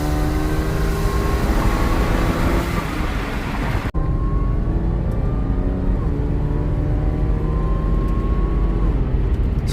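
A 2011 Audi A6 3.0 fitted with a JH Motorsports downpipe and resonator-delete exhaust runs steadily and loudly close by, with a deep droning note. A brief dropout comes partway through, then the droning resumes unchanged.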